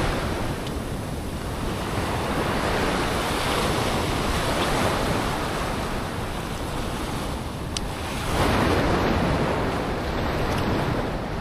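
Ocean surf rolling and crashing steadily onto the shore, a broad continuous wash with gusts of wind buffeting the microphone and no voices.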